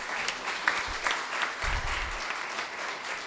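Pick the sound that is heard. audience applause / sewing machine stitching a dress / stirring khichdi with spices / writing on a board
audience applause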